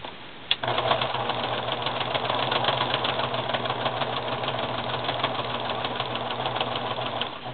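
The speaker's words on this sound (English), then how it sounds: "I'm sewing right around the complete doll, not leaving any space to turn it" Sewing machine stitching all the way around a stuffed mermaid doll, a steady fast mechanical whir and rattle running without pause after a brief click, close and even.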